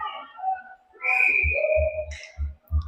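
Referee whistle at a PeeWee youth ice hockey game between Ames and Dubuque, a long shrill blast that wavers in pitch and sounds mid-distance in the rink, mixed with low thumps and faint crowd noise.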